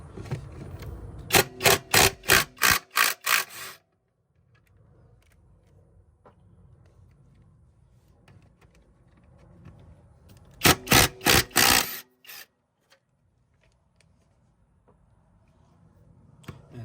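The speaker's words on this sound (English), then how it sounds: "I did find a 13mm socket for the engine bolts that are bolted onto the frame of the lawnmower, and we will start to remove that right now." Rapid ratcheting bursts from a 13mm socket wrench loosening engine bolts on the frame of a rear-wheel-drive self-propelled push lawnmower, two close, loud clusters of clicks separated by quieter handling noise.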